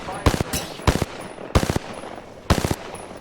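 Video game gunfire rattles out in four short, loud automatic bursts spaced about half a second to a second apart, close up, with faint background noise between them.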